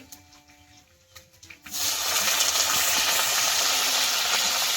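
Chopped eggplant drops into hot oil tempered with broken dried red chillies, bursting into a loud, steady, continuous sizzle after a quiet start, heard up close with no talk.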